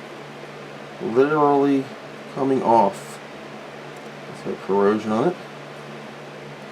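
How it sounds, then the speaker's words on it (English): A steady electric fan whirs throughout an Amiga 3000 tower repair, a continuous broadband hiss with a low hum sitting beneath a man's intermittent speech. "I'm sorry about the fan."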